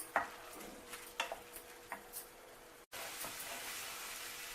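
Okra masala is stirred in a pan for crispy bhindi, a quiet sizzle broken by several light spatula scrapes and clinks, then a brief gap before a louder steady frying hiss.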